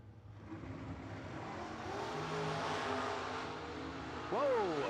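A 1969 vintage Camaro race car at a drag-racing event roars steadily under a crowd and an announcer's voice, its engine note rising sharply near the end as it accelerates away.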